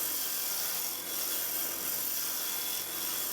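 Lathe tool making small careful cuts in a spinning wood tenon at about 2,800 rpm, a steady, close, hissing scrape with slight dips in intensity.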